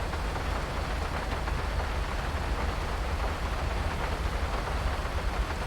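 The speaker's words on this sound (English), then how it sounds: "Sound of the rain on the truck." Steady, dense rain drums on a truck in the GTA 5 video game, a continuous hiss-like patter that stays loud and even throughout with no voices.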